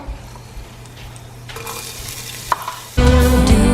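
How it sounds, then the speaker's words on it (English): Chopped onions and garlic drop into a pan of warm oil, bursting into a loud, steady sizzle after a quieter stretch of stirring and pan clatter. "in my pan of warm oil, I'm going to put in my chopped up onions and garlic"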